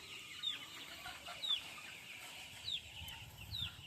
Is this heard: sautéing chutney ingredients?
no